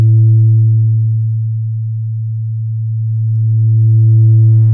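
A steady sine tone runs through an AudioThing Things Fold wavefolder set to negative folding, a loud low hum whose upper harmonics thin out in the middle and return toward the end.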